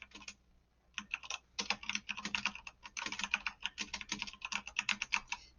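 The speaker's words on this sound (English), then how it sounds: "let's see if I can even type" Typing on a computer keyboard, with bursts of rapid, close clicking keystrokes that pause briefly and then resume at a steady pace, with no talking.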